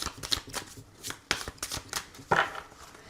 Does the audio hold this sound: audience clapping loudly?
no